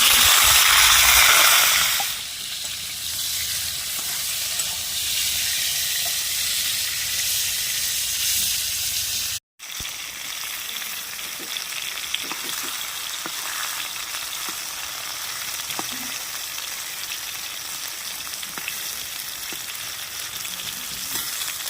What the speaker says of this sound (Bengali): তো দেখুন পটলগুলো এবার ভালোভাবে ভাজা হয়ে গেছে।